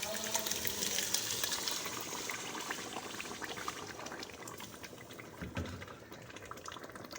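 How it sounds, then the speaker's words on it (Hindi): Ground spinach hits half-fried potatoes in hot oil in a pan, giving a steady loud sizzle and bubbling hiss that fades slightly over several seconds, with a soft thud midway. "तो अब इसमें हम डालेंगे पालक जो हमने ग्राइंड की थी"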